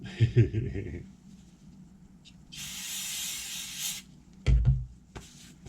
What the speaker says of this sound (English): The only way to get that off is brake cleaner